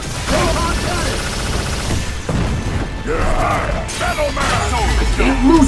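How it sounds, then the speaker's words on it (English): Iron Man's Proton Cannon super attack in the fighting game Marvel vs Capcom Infinite: a loud, sustained roar of blasts and crashing impacts, dense and continuous, with shouted in-game voices on top. "It's the big one! Proton Cannon!"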